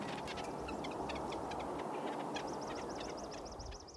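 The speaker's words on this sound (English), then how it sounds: "when these birds are together, they make a kind of a squeaky sound when they're just hanging out and not really worried about what's going on" Red-breasted nuthatches make soft social squeaks in a relaxed group, a rapid series of small high chirps and repeated nasal notes over a steady background hiss.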